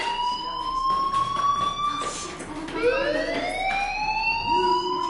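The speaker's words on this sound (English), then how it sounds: "Hey, do you hear that fire alarm? That means you should be outside." A fire alarm wails in the school in the video game Life is Strange, rising and falling siren tones sounding steadily and fairly loud throughout.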